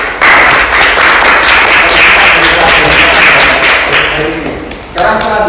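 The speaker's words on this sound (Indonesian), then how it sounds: "Tepuk tangan buat" A classroom audience claps together in a sustained, loud burst of applause that fades slightly toward the end before a short renewed swell, with faint voices mixed in.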